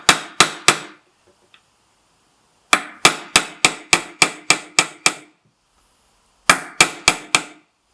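A hammer strikes a tool set against a nail head, driving the nail back out of wood: three sharp blows, then a run of eight evenly spaced ones, then four more. The impacts are loud and close, with no voices.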